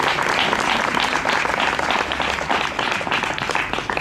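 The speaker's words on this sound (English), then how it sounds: "one more big round of applause over here for Steve Casillo, please." A crowd at an awards dinner applauds steadily throughout, dense clapping at an even loudness with no pauses, filling the whole stretch.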